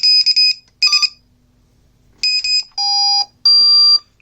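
A drone's ESCs beep in short tonal bursts: quick chirping triplets, then longer steady tones at different pitches, clear and close against silence.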